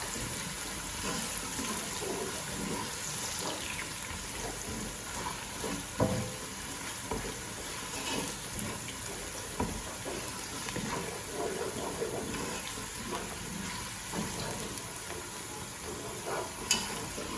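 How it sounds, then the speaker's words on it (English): Chopped onion sizzles and fries steadily in hot oil in a pan while browning for lamb yakhni pulao, with occasional stirring scrapes and clinks over the continuous crackle. "I'm going to brown the onion until it's nicely golden color."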